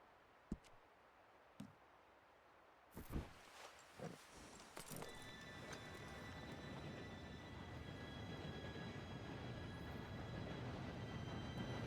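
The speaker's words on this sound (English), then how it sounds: "Train should be here any minute." Approaching train in the video game Red Dead Redemption 2, a few scattered knocks and hoof-like steps giving way to a rising rumble and rattling of rail cars that grows steadily louder and closer.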